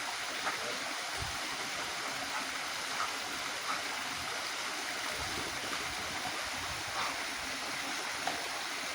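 River water streams and gurgles steadily in a clear river where an animal splashes while swimming, a continuous broad rushing wash with occasional soft splashes, close and fairly loud.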